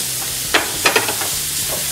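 Grated ridge gourd stirs into onion and spices in a pan, a low sizzle under a few quick spatula scrapes and taps over two seconds.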